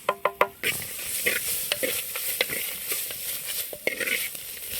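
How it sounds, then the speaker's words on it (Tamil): Curry vadagam, dried red chillies, coconut and tamarind are sautéed together in a pan. A few sharp utensil clinks open the clip, then a continuous sizzle follows with scattered spoon scrapes and stirring taps, and nobody speaks. "கறிவடகம் வரமிளகாய் தேங்காய் புளி எல்லாத்தையும் சேர்த்து இது மாதிரி நல்லா வதக்கி விட்டு"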